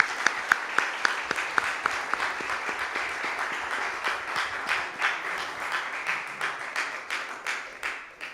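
A church congregation at a Sunday worship service applauds in blessing. A few sharp, distinct claps open it, then it settles into sustained, even clapping that rises and falls in gentle waves.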